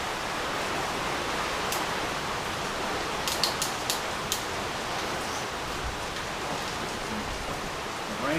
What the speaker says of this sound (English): Rain coming in now.